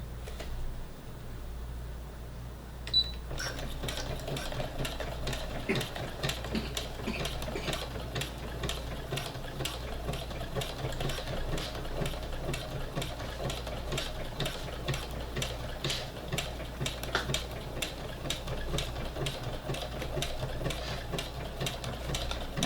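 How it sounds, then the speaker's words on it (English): A sewing machine runs a long top stitch along the edge of a fabric face mask, starting after a brief quiet moment and then whirring in a steady rapid mechanical chatter over a low hum, with no talk. "I'm going to start right close to the edge and do a top stitch."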